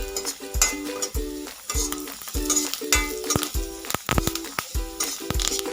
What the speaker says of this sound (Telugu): ఫ్రై అయిన తర్వాత ఇందులోకి కరివేపాకు యాడ్ చేసుకుందాం